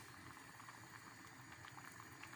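Water bubbles and simmers quietly in a pot, a soft continuous gurgling with faint popping, heard close but at low volume.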